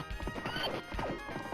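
Galloping hooves and a horse whinny from the Knights of the Round arcade game, a quick clip-clop rhythm mixed with crashing game effects and music, loud and continuous without talk.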